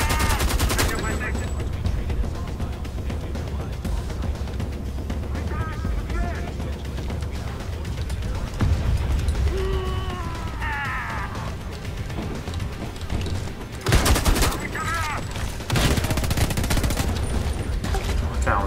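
Sustained gunfire in the Homefront: The Revolution video game, bursts of automatic and single shots crackling loudly over a dense battle mix with voices and other game noise throughout.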